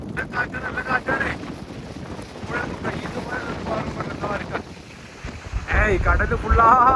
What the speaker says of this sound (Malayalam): കാറ്റ് നല്ല കാറ്റാണേ.